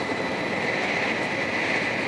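A train travelling from Osaka to Tokyo gives a steady, loud interior rumble with constant rolling wheel noise and a high whine that holds evenly throughout, without speech.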